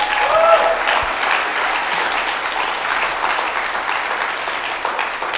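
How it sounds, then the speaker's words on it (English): A conference audience gives a steady round of applause to a presenter working on permaculture and development projects, dense clapping filling the room at an even level throughout. "Can I get a round of applause for that man"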